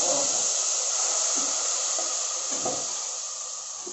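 Liquid poured slowly into a hot pan while making tomato thokku, a steady loud hiss and sizzle with a few brief splatter bursts, no talking.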